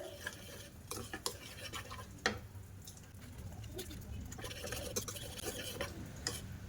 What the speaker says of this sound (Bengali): এটা ব্যাটারটা দিয়ে ভালো করে মিশিয়ে নেব